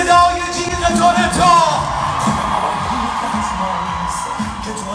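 A concert crowd in Toronto screams and cheers loudly as a singer's voice carries over them, a dense sustained roar of high-pitched yells that stays strong throughout.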